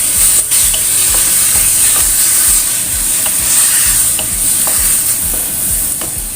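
Papaya and chives stir-frying in a hot pan and turning slightly scorched: a loud, steady sizzle with a rhythmic series of scraping stirs running throughout, no voices.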